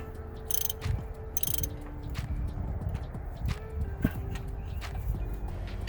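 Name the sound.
ratchet with deep socket loosening spark plug on Toyota HiLux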